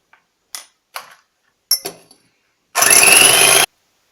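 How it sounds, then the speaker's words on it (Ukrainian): A few light clicks and knocks, then an electric mixer whipping egg whites with a pinch of salt bursts on loudly and whirs for just under a second before cutting off. "До білків додаємо дрібку солі і починаємо збивати."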